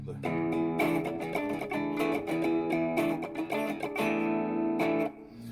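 Electric guitar through a Tube Screamer clone overdrive pedal, a warm, mildly distorted tone, playing chords and riffs continuously, fairly loud and close.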